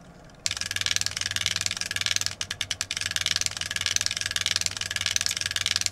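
Fast, rhythmic mechanical clacking from an array of voice coil actuator clamps shooting forward in weaving patterns, steady and close, with a brief staccato run of sharper ticks partway through.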